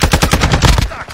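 Rapid bursts of video game gunfire in a squad shooter, a quick run of sharp, loud shots close together that stops abruptly near the end.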